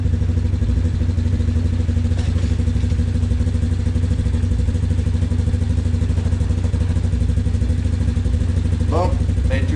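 A 250cc supermotard motorcycle idles loud and steady after a service, its engine chugging close by without revving, while a voice talks briefly near the end.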